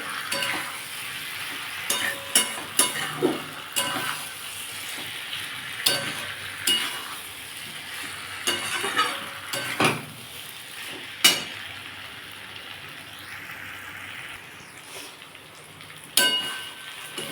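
Spice paste fries with potatoes and pointed gourd in a pan for a vegetarian dalna, a close steady sizzle broken by frequent scraping stirs and light spoon clinks against the pan, no talking.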